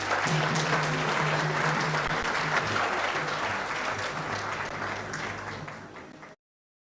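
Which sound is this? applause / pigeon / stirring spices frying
applause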